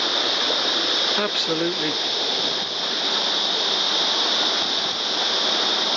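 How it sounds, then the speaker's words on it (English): A waterfall on a walking trail roars steadily and loudly throughout, a dense constant rush of falling water, with someone briefly speaking over it near the start. "So this is the start of the other bit of the waterfall."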